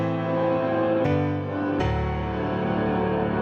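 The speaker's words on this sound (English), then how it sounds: "It's an upward slope that rises until the next note is hit, and it creates a swelling effect that sounds like this." A KSHMR Reverb reverse-reverb effect on synth chords builds dense sustained swells that rise into each new note, with the chord changing twice over a few seconds and no voice present.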